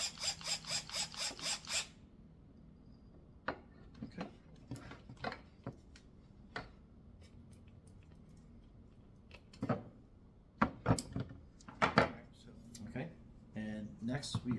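Phillips head screwdriver tightening a screw into a natural wood kids table, heard as scattered sharp ratcheting clicks and light metallic ticks, close and fairly quiet, with a few brief louder knocks and speech throughout.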